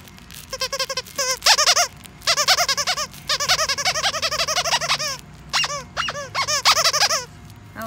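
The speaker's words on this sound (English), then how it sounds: "I like that squeak." Dog's squeaky toy from a monthly Bark Box being chewed, loud rapid bursts of high rubbery squeaks in uneven clusters, close and alone with short pauses between.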